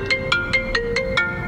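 An iPhone ringtone plays a bright, repeating electronic melody of six evenly spaced chiming notes, steady and close, with no talking over it.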